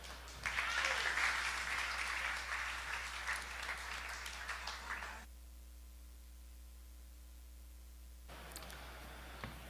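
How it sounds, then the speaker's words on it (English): A panel event audience claps for the speakers, a loud crowd applause that tapers and then cuts off abruptly into a steady hum and near-silence, with a brief rustle at the end. "So let's give them a round of applause."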